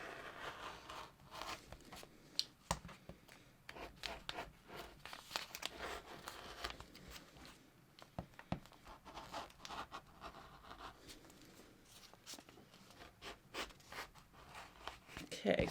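Scissors cutting hat pattern pieces out of fleece fabric, a close, continuous run of soft snipping and rustling crinkles, with faint speech underneath.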